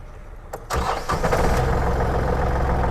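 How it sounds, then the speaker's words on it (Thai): A used walk-behind farm tractor engine cranks over with a few sharp catches, then fires and settles into a steady, loud, continuous idle close by. "ลองฟังเสียงสตาร์ทดูครับ"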